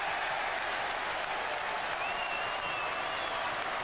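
A rugby stadium crowd at a Gloucester versus Newcastle match in 2002 roars and cheers, a loud, dense, continuous wall of noise filling the whole stretch with no gaps.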